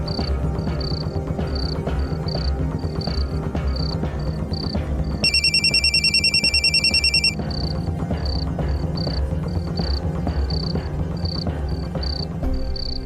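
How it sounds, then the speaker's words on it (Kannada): A telephone ringback tone repeats in short, evenly spaced pulses across the whole stretch, with a louder, denser electronic ringtone burst in the middle, all over steady background music in a Kannada TV serial scene. "ಇರಿ, ನಾನೇ ಫೋನ್ ಮಾಡ್ತೀನಿ"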